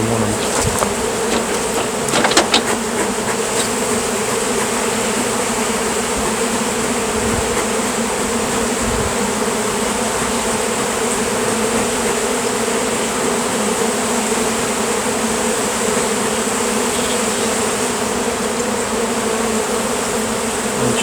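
Dense swarm of bees buzzing during removal of a massive beehive, a constant loud droning hum close by for the whole stretch, with faint knocks early on.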